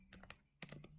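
Fingers typing on a computer keyboard, a handful of quick, light key clicks in two short bursts, close and quiet with no talking.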